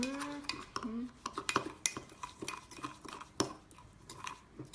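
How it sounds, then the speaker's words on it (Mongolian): A spoon stirs sugar into coffee, clinking and scraping against the cup in quick irregular taps. A voice is briefly audible at the start. "За ингээд шаараа нэмээд ингэж хутгах."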